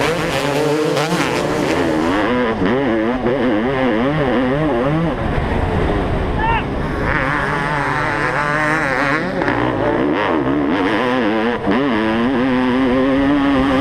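An old two-stroke Honda CR500 dirt bike races up a big uphill triple jump on a hillside track. The engine is loud and close, with wavering revs that rise and fall through the jump and landing, and no one talks.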